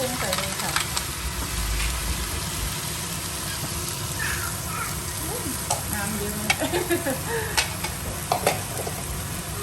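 Shrimp stir-fried with curry powder in a pan: a continuous sizzle with scattered spatula clinks and scrapes, over a low engine-like hum in the background.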